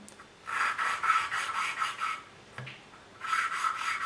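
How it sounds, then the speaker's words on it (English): A valve on a 1983 Kawasaki 750 Ltd being lapped with a suction tool, soft gritty rasping in two bursts of back-and-forth rubbing separated by a pause and a small tap, close but quiet. "So I'm going to connect the suction tool to the valve."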